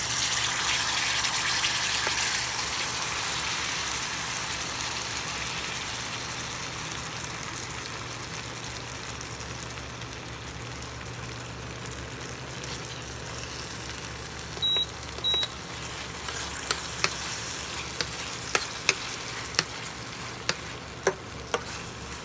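Tomato sauce poured over already-boiled beans, frying and being stirred in a pan, giving a steady soft sizzle with a few sharp clicks and clinks near the end.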